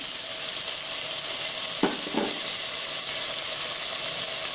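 Tomatoes fry with ginger garlic paste in a pan for a chicken curry, a steady close hiss of sizzling broken by two quick stirring scrapes, no talking.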